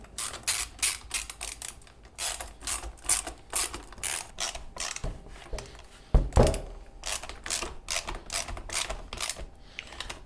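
A 10mm wrench ratcheting as bolts on a rear fender extension kit are snugged up, giving a long run of close, rapid clicking with one heavier knock midway.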